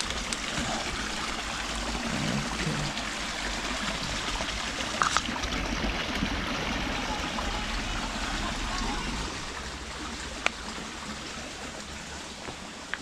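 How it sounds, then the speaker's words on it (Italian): A river flows near an abandoned old farmhouse in overgrown countryside, giving a steady broadband rushing wash that fills the whole stretch, with a few faint clicks and handling bumps. "faccio vedere un po' il fiume"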